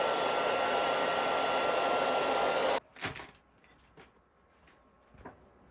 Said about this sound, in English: I am going to use my blow dryer on the pool setting.